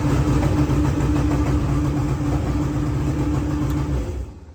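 A 1999 Yamaha jet boat engine runs steadily at a low, throbbing idle, loud and close with a constant rumble, then drops away abruptly near the end.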